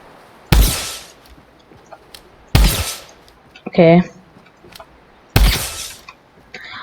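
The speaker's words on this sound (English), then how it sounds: "So now we're gonna use the drum gun and see the range in it." Drum gun fired in Fortnite in three short loud bursts spaced about two seconds apart, each with a sharp attack and quick decay, plus a brief tonal in-game chirp between the second and third.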